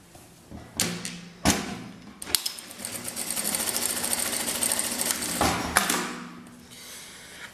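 A sewing machine stitches strips of printed and coordinating fabric, running in a loud, rapid mechanical buzz for a few seconds, with sharp thumps and clacks at the start and end as the work is handled.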